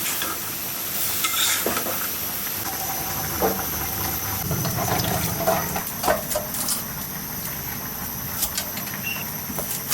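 Spices with ginger-garlic paste, cumin, coriander and garam masala being sautéed with tomato and capsicum, a steady close sizzle under scattered stirring scrapes, with no talking.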